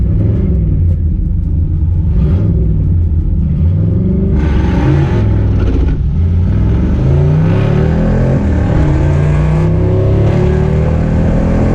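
Drag-strip racing at a Fox-body Mustang event: a loud, close engine rumbles and revs, pitch climbing through gear changes as the car accelerates hard. The roar stays continuous and dominant the whole time, with no voices.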